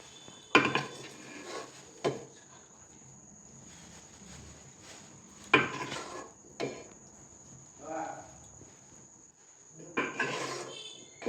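Cooked milk cake mixture being poured from a pan into a container: intermittent clunks and scrapes of utensil on cookware, several sharp knocks with softer sliding sounds between, over a faint steady high whine.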